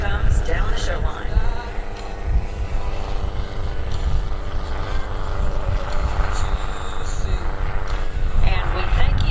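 Otto the Helicopter, flown by Roger Buis at the 2013 Lehigh Valley Airshow, passes down the show line with a loud, steady rotor and engine drone that holds throughout, with voices faintly beneath.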